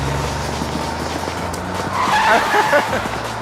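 A stolen car speeds off with tires skidding and squealing, its engine revving near and loud, the screech rising toward the end amid faint voices.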